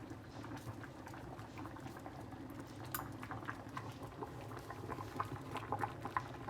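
Water with rice in it bubbling at a steady rolling boil in a pot, soft and close, with continuous gurgling and small pops.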